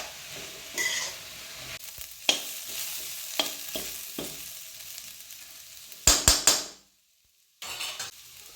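Sliced onions sauté in a pan for Trivandrum-style kothu porotta, a soft continuous sizzle broken by scraping stir strokes and a few sharp clinks of the spoon against the pan, then a brief silence.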